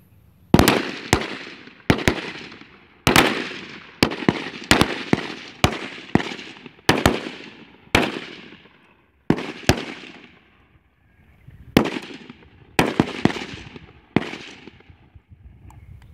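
Shotgun blasts ring out at a league clay shoot in Estcourt, about a dozen loud, sharp reports spaced irregularly, sometimes in quick pairs, each with a short echoing decay and no talk between them.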